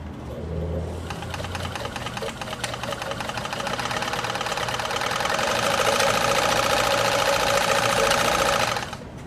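A Decora 950 B sewing machine runs continuously, stitching a fine decorative stitch with a steady, rapid mechanical whir that grows slightly louder midway and then stops abruptly near the end.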